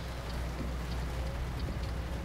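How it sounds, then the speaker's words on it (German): Rain in the Euro Truck Simulator 2 driving game hisses steadily on the truck, a dense and even patter that holds at the same level from start to finish with no voices. "Also die Regeneffekte sind perfekt."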